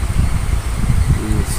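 An electric fan blows on damp swiftlet nests to dry them, giving a loud, close, constant whooshing rush of moving air with a buffeting low rumble.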